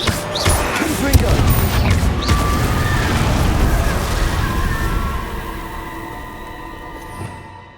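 Confringo fire-blast spell in the video game Hogwarts Legacy: several sharp explosive bursts crackle and boom in quick succession, then fade into a lingering magical hum.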